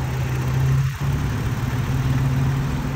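A 2020 Toyota Tacoma 4x4 with its 3.5-liter engine and 6-speed automatic, running at a steady idle close by. A constant low hum holds throughout, with no one talking.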